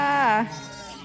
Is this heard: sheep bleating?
yes